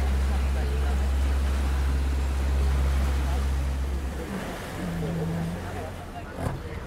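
A small tour boat's motor drones steadily on a sightseeing trip to the sea caves at Paleokastritsa, Corfu: a loud low hum with water wash that eases off partway through, while people talk.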